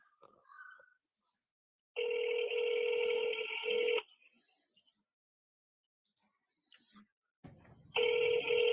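Ringing tone on a recorded phone call, heard as two long steady electronic rings separated by a quiet gap, with faint clicks and brief noise between them.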